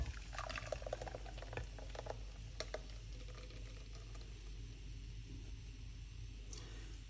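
Juice of beetroot, cucumber, ginger and lime pours steadily, splashing and gurgling close by, with a low hum underneath and no voices.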